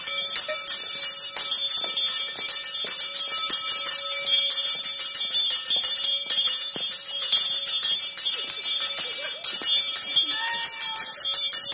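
An electric school bell rings loudly and continuously to mark the last bell for graduates, a harsh metallic clangor held steady for about twelve seconds, close and unbroken.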